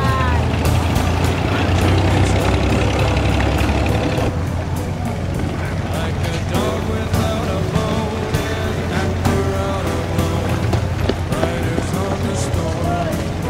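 A boat's rear-mounted motor drones steadily on a river in Cochinchina, Vietnam, with a low engine rumble running throughout and clattering and other noises layered over it.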